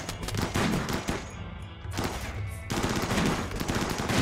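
Gunfire in the video game RimWorld during a fight with scythers: loud, rapid bursts of shots that run almost without pause, with one short dip before the firing picks up again.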